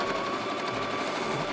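Sewing machine stitching patchwork bag fabric, a fast continuous mechanical whir running close and steady through the whole short stretch.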